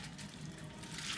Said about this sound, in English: And you need to pour that on the aluminium.